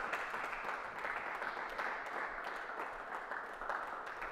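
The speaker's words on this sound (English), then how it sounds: "Clap your hand for Jesus." A church congregation claps during a sermon, a steady dense patter of many hands that sounds fairly distant and faint, continuing evenly throughout.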